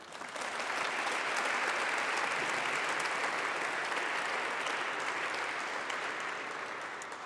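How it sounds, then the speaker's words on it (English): Sustained applause from a large audience greeting Dr. Robert George at a talk on Abrahamic faith, a thick, even roar of clapping that holds steady for seven seconds before easing slightly. "Please give a big round of applause to Dr."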